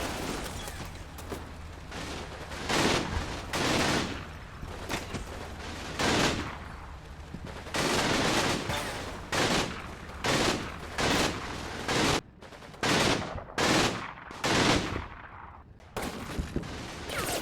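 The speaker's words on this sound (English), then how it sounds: "opens up with several bursts of MG-42 fire" An MG-42 machine gun in the wartime game Combat Mission firing several long, loud bursts of rapid gunfire separated by short pauses, with the rattles growing more clipped and choppy toward the end.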